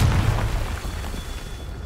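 A Confringo spell explosion from the Hogwarts Legacy video game sounds as a loud, deep, rumbling blast that booms at once and then decays through a dense low roar, with no voices over it.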